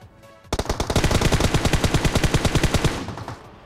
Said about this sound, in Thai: ใครยิงอ่ะ